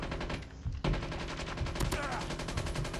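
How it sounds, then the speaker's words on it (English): Rapid automatic gunfire in the mobile shooter Call of Duty Mobile, dense, loud bursts running almost continuously with a brief lull near the start, layered with game effects. "someone shooting behind me."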